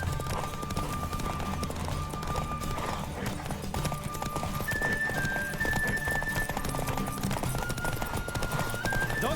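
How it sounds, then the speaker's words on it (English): A horse gallops in The Witcher 3 with steady, rapid clip-clopping hooves and occasional whinnies, all set against a continuous game soundscape carrying tonal music. "Don't spare the horse!"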